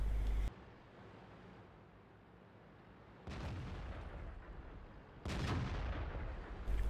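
Tank cannon shots in World of Tanks sound as three loud, booming reports, one at the start and two more a couple of seconds apart, each followed by lingering rumble over steady battle ambience.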